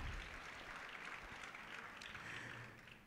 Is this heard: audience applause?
yes